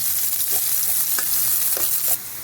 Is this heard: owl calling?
no